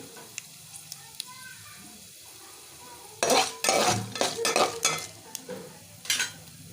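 Cumin and mustard seeds go into hot oil for tempering, crackling and sizzling in bursts after a quiet start, with spoon and pan clatter close by.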